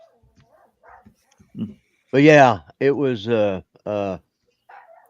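A dog barks and yelps in a few loud, close bursts, with people chatting quietly before and after in what sounds like a coffee shop.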